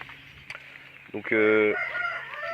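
A rooster lets out a loud, close crow midway, preceded by soft clucks and scattered sounds from Brahma and Araucana hens.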